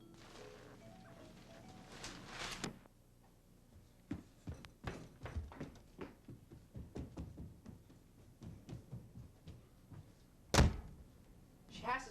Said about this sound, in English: She has to slam the door.